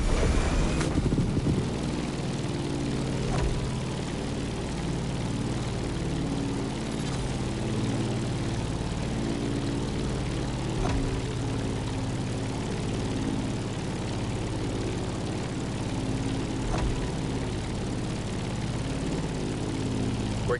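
Propeller airplane engine droning steadily as the plane climbs in The Crew Motorfest, a constant close hum with layered harmonic tones and no voices.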